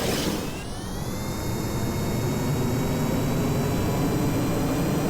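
Jet engines of a spaceplane roaring during takeoff in the video game Kerbal Space Program: a steady, loud, broadband whoosh with a thin rising whine that climbs and then holds, no voices.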